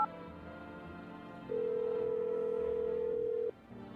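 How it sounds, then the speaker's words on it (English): A steady telephone dial tone sounds in a video game once the receiver is picked up, holding for about two seconds over quiet background music before cutting off. "Should I use the phone?"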